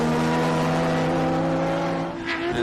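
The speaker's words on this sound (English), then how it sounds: "You hear that flare of the revs as they come over the top of the hill" Race cars at Calder Park climbing a hill and flaring their revs over the crest, a close, loud multi-engine whine with rising pitch and no voices.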